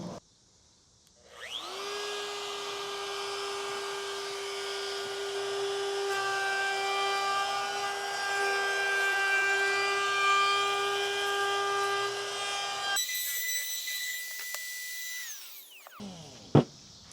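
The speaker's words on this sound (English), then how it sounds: "Let your palm router come to a complete stop." Palm router cutting a round-over on a wooden edge, a steady high whine that starts abruptly, holds for about twelve seconds, shifts pitch briefly, then spins down to a stop.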